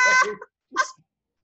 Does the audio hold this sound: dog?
yes